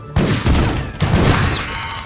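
Gunfire in the StarCraft video game during the first Terran campaign mission, delivered as several loud, clustered volleys of shots with booming low-end impacts over about two seconds.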